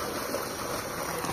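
Continuous trickle and splash of water pouring from a solar-powered pump outlet, steady and close, with no talking.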